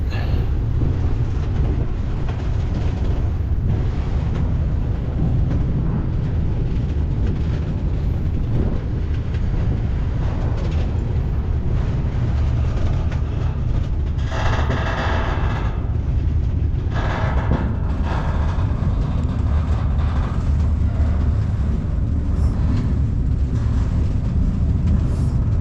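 Steady low rumble and rattling of a moving freight train car, ridden by a person on board, continuous and loud throughout, with brief hissing bursts partway through and no talking.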